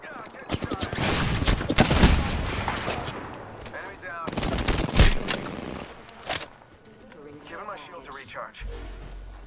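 Apex Legends gunfire on the World's Edge map: repeated bursts of rapid automatic shots, loud and close, rattling through most of the clip with a player talking over the shooting.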